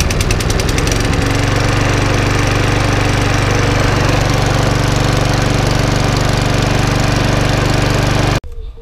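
A Power Devil petrol lawnmower engine runs loud and close with a steady, rough droning chug, its pitch settling after a brief start, then cuts out abruptly near the end.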